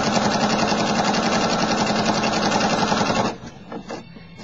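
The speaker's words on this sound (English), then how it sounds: "Stitch all the way through to the end." A sewing machine stitches through fabric in a fast, steady, loud mechanical whir for about three seconds, then stops abruptly, leaving a few faint clicks.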